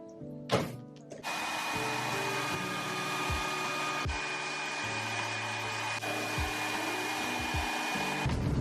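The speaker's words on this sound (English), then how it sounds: "I might take a blow dryer to it because I'm just very impatient." A hair dryer blows with a steady, loud whooshing hum drying coffee-dyed Air Force 1 sneakers, after a brief click and rattle at the start, with a few dull thumps underneath.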